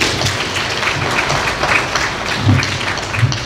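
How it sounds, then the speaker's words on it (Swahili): An audience at a school heads' association meeting applauds, a steady, dense clapping from many hands that continues without a break. "Makofi hayo hayatoshi, tumuongezee makofi mengine mengi kabisa kwa kazi nzuri sana."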